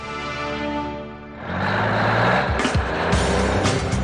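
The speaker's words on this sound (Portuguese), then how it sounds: "Os caminhões chegam antes do amanhecer, cada um com 23 mil litros, e vão para as baías de descarga." Tanker trucks arriving before dawn at the unloading bays of a cheese plant, each carrying 23,000 litres: a loud, steady diesel engine rumble that builds after a quieter start, with brief hissing and knocking transients over the drone.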